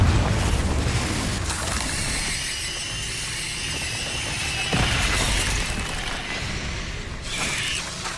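Confringo fire spells bursting in Hogwarts Legacy combat, a dense run of loud booming blasts and crackling debris with a fresh heavy impact about halfway through, all layered over a sustained mechanical game soundscape.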